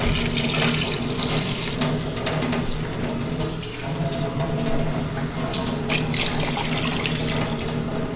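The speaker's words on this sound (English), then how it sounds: "we're gonna cover the oxtail with water until we get about an inch above the oxtail with water" Water runs steadily from a tap and splashes into a cooking pot over oxtail, a continuous gushing stream lasting throughout without pauses.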